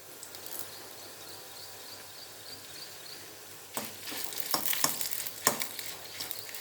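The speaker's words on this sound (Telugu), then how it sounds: "ఫ్రై చేసుకొని ముందుగా ఎండుమిర్చి వేసుకుందాము" Dried red chilies fry in oil left over from deep-frying ivy gourd. A soft, steady sizzle gives way to louder sputtering and scraping of a stirring spoon against the pan, with no voices.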